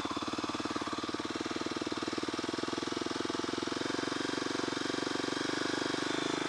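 A motorcycle with a snapped throttle cable idles high, set way up, making a fast, even, rapid-fire engine chatter that stays close and steady the whole time.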